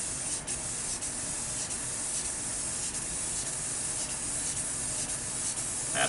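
Spray paint hissing steadily onto an arcade cabinet as a second coat goes on, a continuous close broadband spray with brief dips and no talking.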